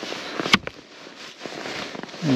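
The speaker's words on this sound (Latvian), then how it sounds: "Un te tā pēc skaņas vismaz liekas, ka es trāpu ledu" Frozen lake ice on Burtnieks lake being struck through a crust of frozen snow: a few sharp, hard knocks, one strong hit followed by lighter taps, close by against a faint outdoor hiss.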